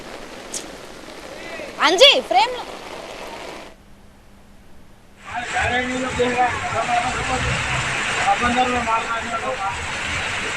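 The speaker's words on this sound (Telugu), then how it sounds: "ముసురు వానకి భారీగా కుండపోతగా కురుస్తున్న వానకి" A steady hiss of heavy monsoon rainfall in Vijayawada after a brief quiet gap, with a voice talking over it and a whistle-like tone earlier.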